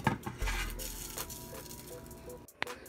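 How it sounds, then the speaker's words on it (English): A cooking pot set down on a stove while spaghetti with ground beef is being made, heard as soft metallic knocks and one sharp clink near the end, fairly quiet. "I'm going to go ahead and put my other pot on"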